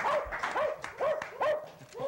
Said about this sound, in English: Who's feeding my dog?